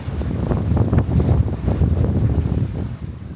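Wind buffets the microphone on a sailing boat at sea in about 7 knots of breeze, a loud continuous rushing roar with gusty swells and water noise underneath, no voices.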